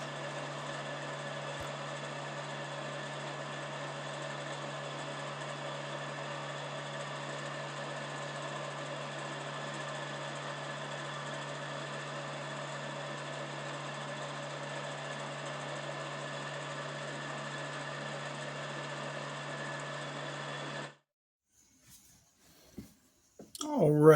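A buffing wheel on an arbor polishes a knife with compound, a steady motor whine and hum running continuously at close range before cutting off abruptly near the end, followed by a few faint handling clicks.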